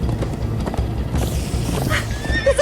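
Horses neigh and gallop with clip-clop hooves in the Minecraft Story Mode video game, a loud, busy mix of hoofbeats and whinnies over game music and effects.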